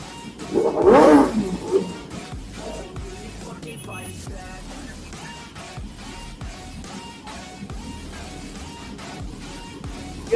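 A Suzuki GSX 1000 motorcycle lets out one short, loud rev near the start, then settles into a quieter, steady rumble for the rest of the clip.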